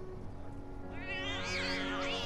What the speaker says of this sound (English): Oh, kitty cats.